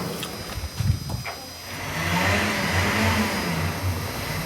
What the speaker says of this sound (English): You hear the car